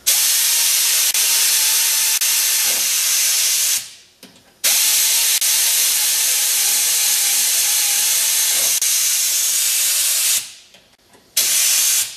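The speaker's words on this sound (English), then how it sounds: "This is a air gun that has the right torque, so we don't have a problem with stripping the bolts out." Loud, close pneumatic air gun hissing in two long bursts, each several seconds, while tightening bolts in a workshop, with a short pause between.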